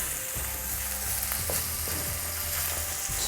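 Ginger sizzling and frying steadily in a pan over medium-low heat, a continuous close crackle with occasional stirring scrapes, no voices.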